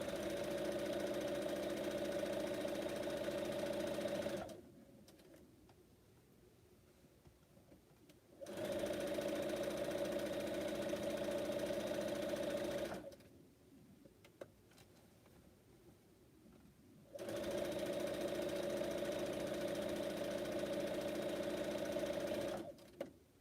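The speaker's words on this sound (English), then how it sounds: "I'm doing my top and bottom, and these are going to be my last seams, I'm going to back stitch on these." A sewing machine back stitching the final seams of a quilt top runs in three long, loud, steady bursts of rapid stitching, broken by quiet pauses.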